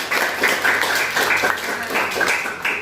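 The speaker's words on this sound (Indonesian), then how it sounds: "Kita kasih aplaus dulu buat teman-teman" A classroom of students claps for their classmates. The applause is steady and moderately loud, with dense overlapping claps that last the whole stretch and a few brief swells.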